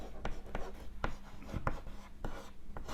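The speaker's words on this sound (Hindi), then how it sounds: "अगर इसे शब्दों में लिखना चाहें तो हम लिखेंगे" Chalk or marker strokes on a classroom board during a physics lesson, a few short scratchy taps and scrawls in an irregular rhythm, close and clear, with no voice over them.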